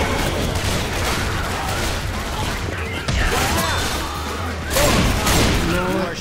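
Gunfire from survivors shooting in the Left 4 Dead 2 video game, dense overlapping shots and booms that run continuously over the game noise, with some faint voices mixed in.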